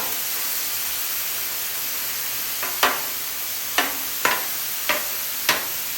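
Beef sizzles on a griddle as a steady hiss, broken by several sharp scraping strikes of a spatula spread across a few seconds, near and moderately loud, without speech.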